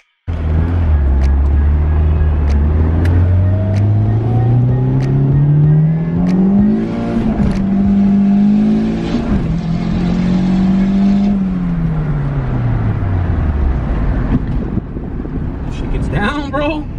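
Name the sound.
boosted Honda Civic wagon accelerating through gears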